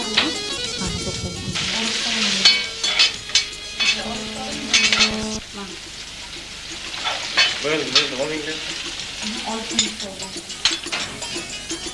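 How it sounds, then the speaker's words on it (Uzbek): Chopped onions sizzle and crackle in a hot pan while a spoon stirs and scrapes, and people talk intermittently over the frying. "Xamirimiz tayyor bo'lgancha piyozni to'g'rab qovuramiz."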